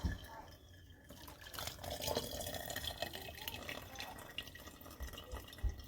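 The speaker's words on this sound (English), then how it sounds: "out a little bit of ladle out of here and slowly ladle it in" Beef broth ladled into a jar in a home kitchen trickles and splashes softly, with faint intermittent pours and drips over quiet background noise.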